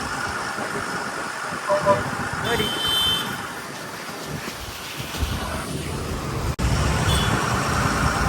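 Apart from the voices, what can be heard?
fishing boat engine heading into harbor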